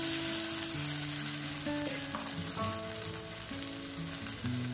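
Semolina and curd batter poured into hot oil gives a steady, close sizzle and crackle that runs unbroken throughout, with faint clinks over it.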